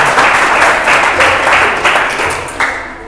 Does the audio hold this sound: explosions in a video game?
no